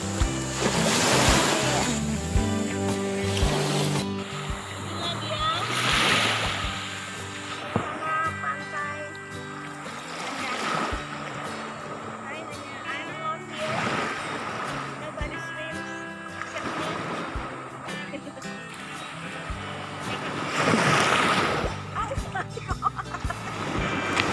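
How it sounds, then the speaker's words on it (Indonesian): Ocean surf rolls in and crashes on a beach in repeated surges every few seconds, a broad roaring wash with a voice faintly heard among the waves. "Awas ombak di belakang."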